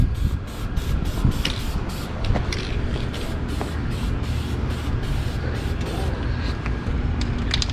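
A second metallic coat is spray-painted onto anodized aluminum parts: a steady, close aerosol hiss in short repeated bursts that runs almost continuously through the whole stretch.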